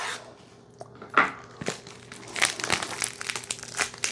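Stiff plastic wrapping crinkles and crackles as it is peeled off a boxed perfume, close and fairly loud, with irregular sharp crackles over about four seconds.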